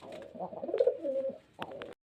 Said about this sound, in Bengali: জাগ পিলং জাগমুখী পায়রা দেখতে পাচ্ছেন খুব সুন্দর গেট আপ কোয়ালিটি পায়রার